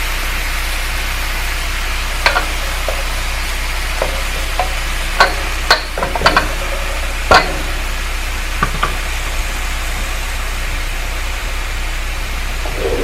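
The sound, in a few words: chicken adobo cooking in a pan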